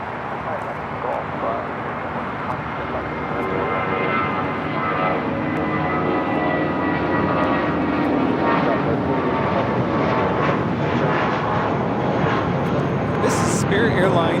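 A Spirit Airlines A320 taking off from Los Angeles International, a rising jet engine roar that builds steadily and holds strong with a brief sharp burst near the end; a voice is heard talking over it.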